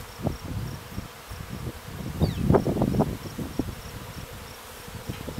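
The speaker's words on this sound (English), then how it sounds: "We got bees." Honeybees buzzing around a hive built into a crack, a dense low hum of close wings swelling in the middle and fading, with soft rustling outdoors.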